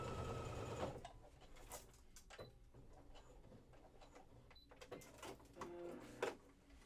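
A sewing machine stitches a dropped-shoulder hoodie through six thick layers of sweatshirt fabric and ribbing, running in a steady mechanical rattle with uneven bursts and pauses, close and fairly quiet.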